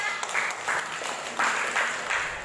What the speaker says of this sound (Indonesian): tepuk tangan buat kelompok 5